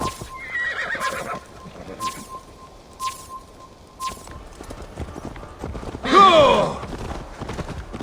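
A horse in the video game Assassin's Creed Valhalla whinnies loudly and close near the end, after a series of sharp rhythmic clicks and soft shuffling.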